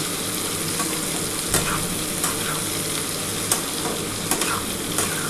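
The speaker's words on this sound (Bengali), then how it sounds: "এবার ভালো করে একটুখানি নাড়াচাড়া করতে হবে।" A pan of Lote fish curry with potatoes and Kashmiri chili powder fries with a steady sizzle while a spoon scrapes and stirs, giving a few soft knocks against the pan, close and with no talking.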